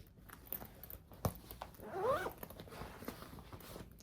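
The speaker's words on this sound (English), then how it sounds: "You've got this section here that zippers." One zipper pulled along a compartment of a purse, a short close rasp in the middle of quiet handling sounds and a couple of soft knocks.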